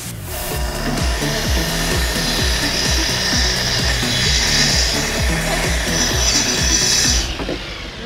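A power saw cuts straight through a wooden table, its steady rhythmic buzzing and rasping loud and close for about seven seconds, then the blade stops and the sound drops away.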